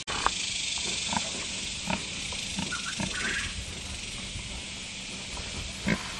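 Pigs on a farm grunting and oinking in a few short bursts over a steady outdoor background hiss, moderately close and fairly quiet.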